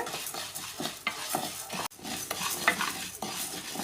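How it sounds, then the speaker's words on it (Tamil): Black urad dal being dry-roasted and stirred in a pan for spicy idli podi, with continuous close rattling and scraping of the lentils and spatula, plus one sharp knock. "பாருங்கள் உளுந்து இந்த அளவுக்கு வறுத்துக்கிட்டாலே போதும்"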